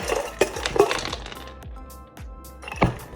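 Metal utensil scraping and clinking against a bowl while mixing kibble-based pet food, a few sharp taps amid softer stirring scrapes, close by.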